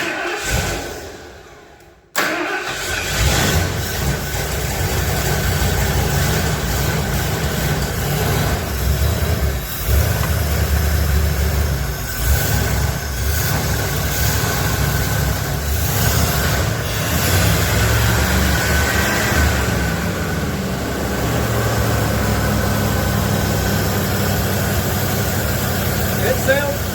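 A 1977 Ford F250 4x4 engine with an old used 2100 carburetor starts after a brief silence and keeps running with a loud, steady, rough rumble throughout.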